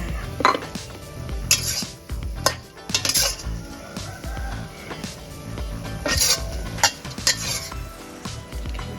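A basil and minced pork omelette is scooped from a sizzling pan onto a plate, with sharp repeated scrapes and metallic clinks of the utensil against the pan over a steady frying hiss, close and irregular, and no voices.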